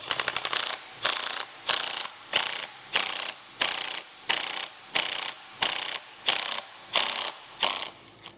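A ratchet fitted with an M8 socket tightens bolts on the C4 Dana 36 rear suspension of a 1957 Chevy truck. A quick run of clicks gives way to about a dozen even, rhythmic ratcheting strokes, close and distinct.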